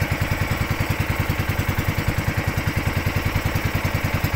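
A small boat engine idles steadily off Bohol during dolphin watching, chugging with a fast, even pulse that stays loud and constant throughout, with no talk over it.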